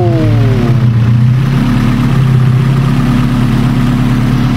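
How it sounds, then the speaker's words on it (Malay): A car engine cranks and catches, its pitch dropping as it settles into a loud, steady idle that drones on close by without any talk. "kita dengar dia start engine guys"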